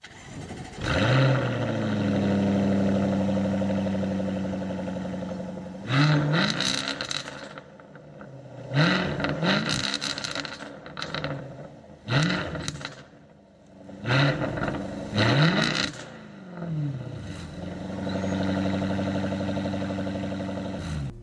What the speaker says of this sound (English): there's going to be an exhaust startup and all that back there